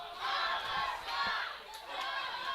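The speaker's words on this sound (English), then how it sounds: "And listen to this factory crowd" A roaring indoor wrestling crowd at a factory venue shouts and cheers in loud, swelling waves, with rising yells that peak and ease back repeatedly.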